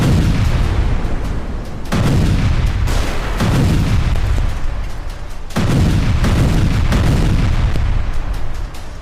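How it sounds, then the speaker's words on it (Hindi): Artillery fires a series of loud blasts during a North Korean weapons demonstration, roughly four heavy booms, each followed by a long rolling rumble that nearly fills the gaps between them. "सामने आर्टिलरी से धमाके शुरू हो गए"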